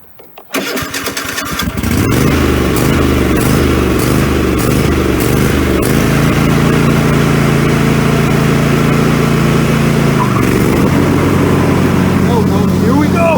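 A riding lawnmower tractor engine cranks and catches, then runs loud and steady close by, its pitch shifting around the ten-second mark. A person talks over the running engine.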